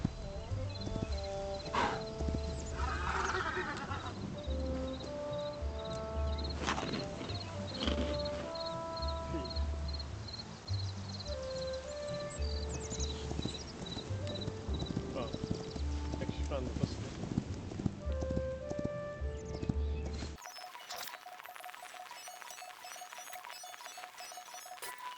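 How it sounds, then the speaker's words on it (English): In the video game Hytale, a horse's hooves clip-clop steadily with occasional whinnies, mixed with game music and effects, while someone talks over much of it. "Oh, that's my horse."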